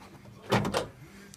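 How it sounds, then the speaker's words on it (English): A Honda Odyssey's fuel door pops open: a quick mechanical pop followed by a second soft thunk, close and brief. "Fuel door is popped."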